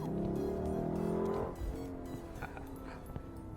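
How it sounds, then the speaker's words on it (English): A Lexus LC500 V8 engine revs hard, then drops abruptly as it downshifts with a quick rev-matching blip, settling into a lower rumble. "downshift and it just rev matches"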